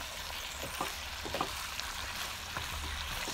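Beef and vegetables are stirred in a pan over steady frying sizzle, with a few soft scrapes and clinks of the utensil scattered through the hiss.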